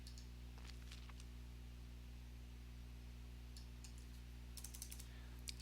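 Faint bursts of key clicks as a network command is typed on a computer keyboard, sparse and quiet over a steady electrical hum.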